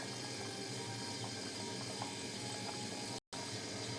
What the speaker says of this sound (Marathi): बघा अशी उकळी आलेली आपण.